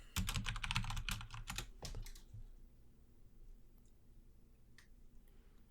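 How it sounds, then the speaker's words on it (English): Rapid typing on a computer keyboard, a dense burst of close key clicks for about two seconds that then stops, leaving a quiet room tone with a couple of faint stray ticks. "He's typing."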